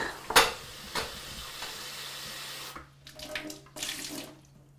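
Fifteen litres of brewing water splashes and pours into a container, with a sharp slosh at the start, then a steady gushing fill and a few louder splashes near the end.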